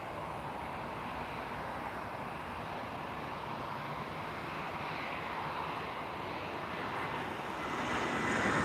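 An airliner landing at Lisbon Airport, a steady engine roar heard from a distance that swells louder toward the end, with some wind noise and no talk.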